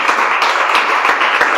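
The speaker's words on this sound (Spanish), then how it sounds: "Dele un fuerte aplauso al Señor en esta mañana." A church congregation applauding during a Spanish-language service, a dense, steady wash of many hands clapping that fills the short stretch without pause.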